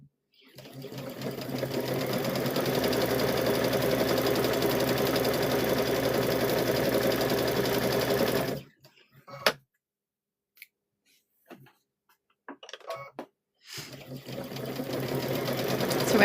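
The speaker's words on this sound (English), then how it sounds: "So we're gonna get these all stitched up" A sewing machine stitches a hummingbird and butterfly quilt block in one steady, fast run of close mechanical whirring, followed by a few short bursts and pauses.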